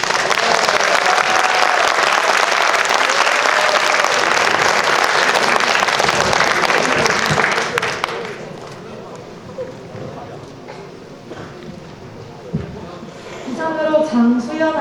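An audience at a Korean academic research presentation event applauds loudly and steadily for several seconds. The clapping then stops abruptly and quieter room noise and a voice follow.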